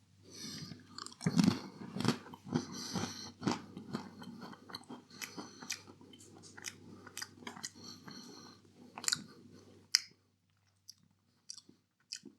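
Crunchy bites into a salted caramel pretzel from a Tesco party mix, with repeated close chewing and crunching that comes in irregular bursts, then tapers into a few quiet mouth clicks near the end.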